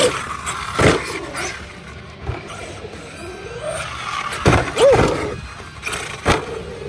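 A Kraton 8S RC car on J Concepts tires runs around a skatepark. Its motor whines in short bursts and there are scattered bumps and landings, with one rising whine near the end.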